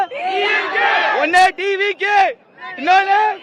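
Excited TVK political party supporters, including women, shout and cheer together in loud, close bursts of rising chant-like cries, separated by brief pauses, with the crowd voices filling the space.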